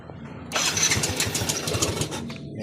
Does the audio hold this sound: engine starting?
yes